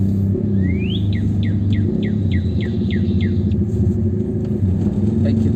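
A car being driven through city streets, a steady close engine and road rumble inside the cabin, with a short series of repeated rising chirps, like a bird or squeaky signal, over the first few seconds.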